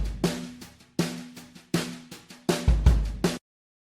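Uncompressed soloed drum kit plays a steady groove of punchy kick and snare hits with ringing toms and cymbal wash, close and dry, alone with no talk, ending abruptly.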